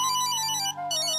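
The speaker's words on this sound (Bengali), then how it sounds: "ও আমার বোধহয় ফোনটা বাজছে ঘরে" A mobile phone ringtone plays in another room, a bright electronic melody carrying steadily for a moment with a brief dip partway through.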